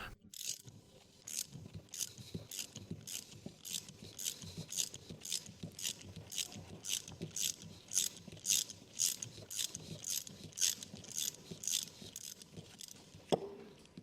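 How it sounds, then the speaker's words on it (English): Ratchet wrench clicks rapidly and steadily in repeated bursts while loosening a bolt on a Ford Fusion rear shock tower, close and fairly quiet with a sharp clack near the end. "Attach the ratchet wrench."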